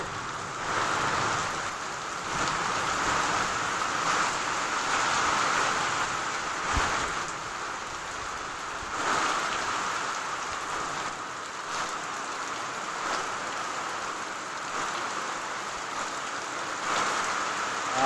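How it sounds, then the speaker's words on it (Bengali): Heavy rain pours steadily for the whole stretch, a dense, even hiss of drops on surfaces with no pauses and no voices. "প্রচণ্ড পরিমাণে বৃষ্টি।"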